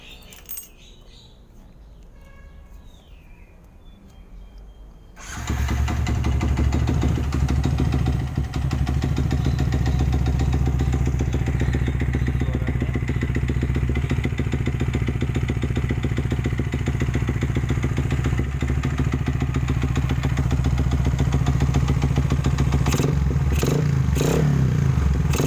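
A carbureted Yamaha Vixion motorcycle fitted with a DBS aftermarket exhaust starts after a few quiet seconds and then settles into a loud, steady, close idle with a deep rumble and a few slight rises in revs near the end.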